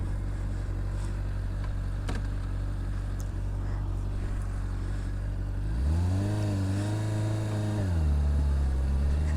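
Honda CBR600RR motorcycle engine idling steadily, then revving up sharply in two climbing and falling bursts, close and loud with wind noise underneath.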